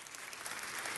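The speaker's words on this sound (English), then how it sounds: "Can we give Mike a round of applause?" An audience applauds for a city attorney at an African American Heritage Month event, a dense, sustained burst of clapping heard alone and at moderate distance.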